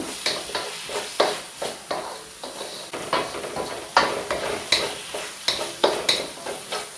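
Breadfruit chilly being stir-fried in a pan over high flame: a rhythmic series of scraping stirs and spatula clatter over a soft, steady sizzle, fairly close and with no voices.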